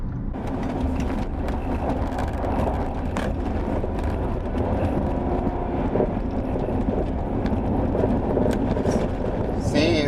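A used car is driven over a rough gravel road, giving a steady, loud rumble of tyres and road noise with low suspension thumps throughout; a faint voice may sit under it.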